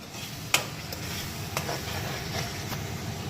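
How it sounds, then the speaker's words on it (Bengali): Ginger, garlic and onion paste fries in a pan with a steady close sizzle, broken by a few sharp scrapes of a spoon stirring. "ভালো করে ভেজে নিচ্ছে যাতে আদা রসুন পেঁয়াজের গন্ধটা না ছাড়ে"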